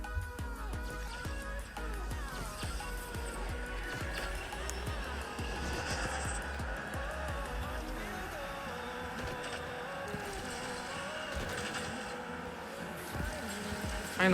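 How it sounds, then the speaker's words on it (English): A Ferrari F12 TDF races in the mobile game Asphalt Legends Unite, its engine rising and sweeping in pitch with a whooshing nitro boost, all blended with continuous game music. "I'd say I do like the new nitro sounds better than the old ones."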